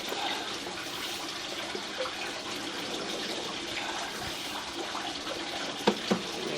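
Water rushes steadily through a submerged sewer pipe, a continuous broadband wash with a couple of brief knocks near the end.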